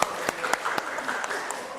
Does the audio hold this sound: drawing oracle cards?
no